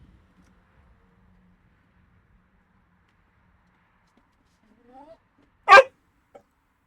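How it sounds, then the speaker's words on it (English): A dog makes odd noises in a quiet room: a faint low whine, then one sharp loud click-like burst, and a small tick after it, with long near-silence before. "Some of the noises this dog makes just gets me"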